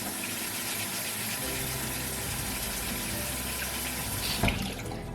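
Kitchen tap water runs steadily and close by while dishes are washed by hand one at a time in cold water, a continuous rushing stream with a brief clatter near the end and no talking.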